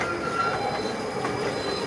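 A small park ride train runs past with a steady rumble and squealing wheels, at moderate distance and fairly faint, with no voices.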